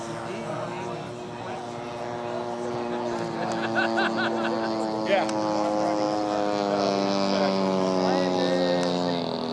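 A radio-controlled Ultra Stick model airplane flies overhead at a giant-scale club fly-in, its propeller engine droning steadily with a rising and falling pitch as it passes and comes in to land.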